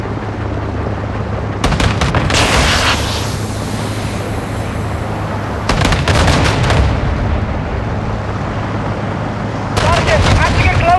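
Heavy gunfire and booming blasts in the Call of Duty: Modern Warfare II campaign come in three loud bursts over a constant roar of battle, with voices talking beneath.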